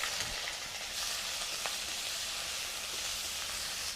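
Bay leaves, green and dried chillies, cumin seeds and onion paste frying in hot oil, a steady bright sizzle that hisses continuously with faint spoon touches, close and moderately quiet.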